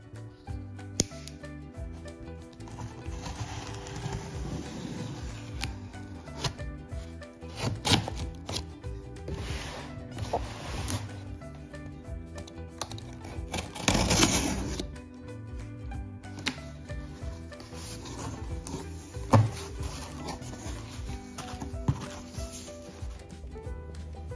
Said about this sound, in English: Here is our Trelino toilet that just came in the mail. I'm gonna open this guy up.